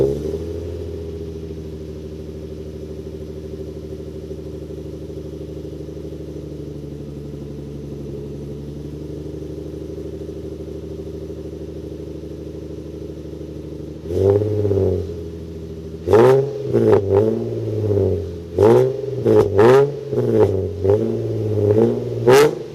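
A Nissan 350Z fitted with a Nismo S-Tune exhaust idles with a low, steady burble, then is revved hard in a string of sharp, raspy blips that rise and fall quickly, loud and close, with no talking.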